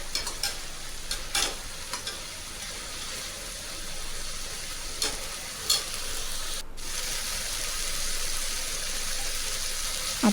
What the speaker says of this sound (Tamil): இஞ்சி பூண்டு போட்டு நீங்கள் அந்த பச்சை வாசனை போகிற வரைக்கும் வதக்கிடுங்க